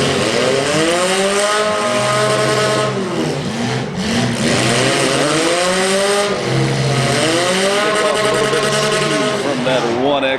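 Demolition derby cars at a county fair roar and rev continuously, engines rising and falling in pitch across the arena while an announcer talks over them.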